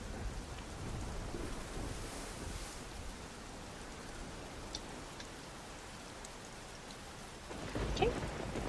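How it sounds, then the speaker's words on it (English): Steady heavy rain with a low rumble of thunder underneath in EverQuest II, a few sharper drips standing out, building slightly at the end. "So the thunder and lightning and the rain."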